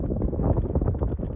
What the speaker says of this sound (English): Really cold, really windy.